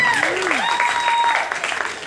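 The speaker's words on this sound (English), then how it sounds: "nice big round of applause for Donna" An audience at an animal charity evening for horses applauds a performer in a steady wash of clapping, with a voice and a sliding vocal tone sounding over the start.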